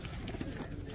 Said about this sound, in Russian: Разные голуби. Турецкие, туркиш, туркиш тамблер.